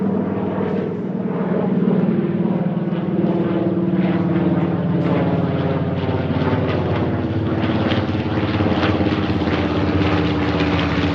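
A TBM Avenger radial-engine warbird flying past, its propeller drone loud and steady throughout, outdoors with no talk.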